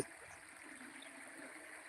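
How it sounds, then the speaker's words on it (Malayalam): Calmly flowing river in the Chooralmala hills, a steady, soft broadband rush of running water that stays even throughout with no voices. "ശാന്തമായി ഒഴുകുന്ന പുഴ ഇത്"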